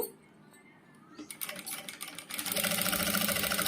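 A Jack industrial sewing machine set to speed 2 starts up after a quiet moment and settles into a steady, smooth, fairly loud mechanical whir close by.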